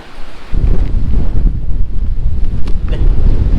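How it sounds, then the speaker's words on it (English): Strong wind by the sea buffets the microphone with loud, gusty low rumbling that starts abruptly and continues throughout, with fast-running waves in the background. "the wind is really strong"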